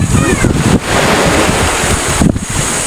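Loud sea surf crashing nearby, buffeted by heavy wind rumble on the microphone, with a voice briefly audible.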